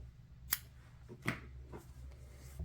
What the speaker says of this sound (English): You can cut your yarn